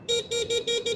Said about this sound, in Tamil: ஸோ ஹார்ன் பார்த்தீங்கன்னா சிங்கிள் டோன் தான்